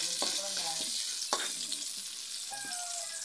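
Onion and garlic sautéing in cooking oil for shrimp sinigang, a soft, fairly faint sizzle broken by a few sharp spatula scrapes against the pan.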